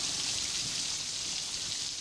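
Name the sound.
rain falling in Amreli district villages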